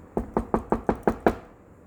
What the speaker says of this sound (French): il frappe à la